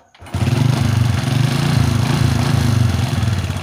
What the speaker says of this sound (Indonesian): Ternyata motor menyala dengan normal dan tidak berbet